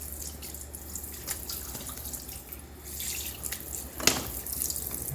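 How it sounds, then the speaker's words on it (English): Fish being rinsed under running water at a sink while preparing a fish fry, a steady close tap flow with splashing and drips, briefly louder near the end. "I'm going to take my whole water and I'm just going to give it a good little rinse."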